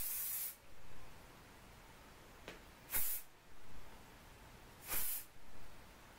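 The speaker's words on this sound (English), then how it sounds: "Obviously with spray" Hairspray hisses onto braided hair in three short bursts, each a bright sharp spritz separated by quiet pauses, close up with no talking.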